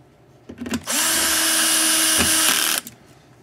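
A power drill drives screws into a control box during a Probe Plus kit build, spinning up for about two seconds of steady loud whirring after a few short bursts, then stopping.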